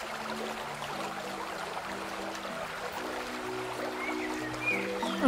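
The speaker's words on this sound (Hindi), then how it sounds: "सो ये है वो पानी का झरना" A waterfall in the hills of Meghalaya in North East India pours with a steady, soft broadband rush heard from a distance, unbroken and without talk.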